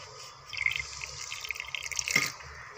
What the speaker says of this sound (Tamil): இப்போ வந்து நான் தண்ணி க ஊற்றி ஊற்றி தான் நான் வந்து அரைச்சிட்ருக்கேன்